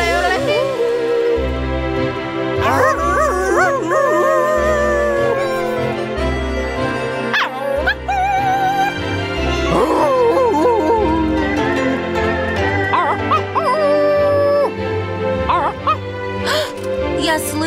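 Cartoon dogs howl in a warbling, yodel-like way, their voices sliding up and down in repeated swoops. The performers voicing them imitate the dogs, and the howling mixes with other animated chatter.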